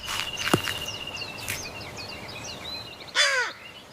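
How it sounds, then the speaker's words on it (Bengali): A cartoon crow caws loudly at the end after a stretch of faint background chirps and a couple of short knocks like pecking on a red coconut. "গাছে বসে সন্তু কাক ঠুকরে ঠুকরে ডাইনির জাদুর লাল নারকেল খেতে থাকে"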